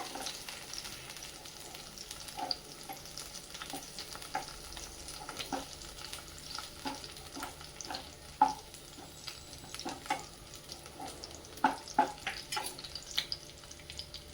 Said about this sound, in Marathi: लसूण आणि ते छान परतलं जात आहे